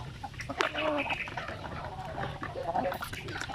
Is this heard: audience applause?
no